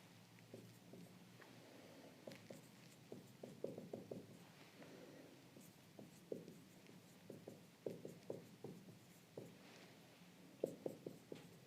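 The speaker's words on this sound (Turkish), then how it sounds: "Şimdi size bir tablo çizeceğim." Writing and drawing a table, likely with chalk or a marker on a board, heard as faint, scattered taps and short strokes in irregular bursts against a quiet room.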